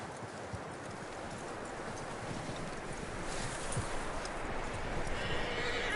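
Clip-clopping horse hooves and a whinnying neigh from a horse in the Red Dead Redemption 2 video game, with steady hoofbeats growing slightly louder over rustling outdoor ambience.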